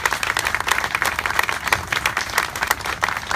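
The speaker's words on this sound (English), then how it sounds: "let's give a round of applause for our DPW people who did such a tremendous job" An audience at a park dedication ceremony claps for the public works crew in warm, sustained applause, dense and even throughout.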